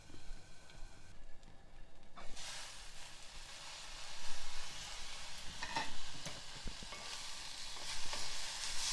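Tomatoes softening in a pan for sorakaya pottu chutney, stirred now and then, give a steady soft sizzle and frying hiss with occasional scraping stir sounds, moderately close and continuous, with no talking.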